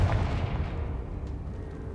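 The Confringo fire spell explodes in Hogwarts Legacy with a deep, booming blast that rumbles loud and heavy, then fades over two seconds.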